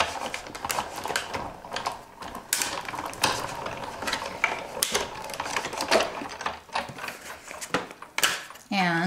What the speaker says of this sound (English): And I'll roll this through the Big Shot machine.